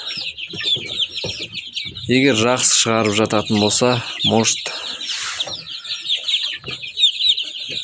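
A Kuchin breed hen clucks and murmurs nearby through most of the stretch, with chicks peeping faintly in the background, as someone talks over the middle part.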